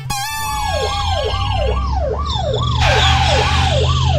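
An ambulance siren wails in steady repeating rising-and-falling sweeps, loud and close as the vehicle pulls up, over a low engine hum with no talking.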